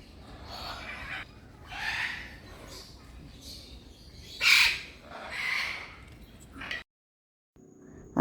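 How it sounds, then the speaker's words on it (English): Squawking calls from a pair of scarlet macaws and blue-and-gold macaws, several loud harsh bursts spread across the stretch, with a sharp peak midway, over outdoor ambience and faint background voices. "And these are a pair of scarlet macaw."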